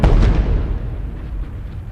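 A penetration bomb, the forerunner of the bunker buster, detonates in a loud, close explosion: a heavy boom that slowly decays into a deep rumble.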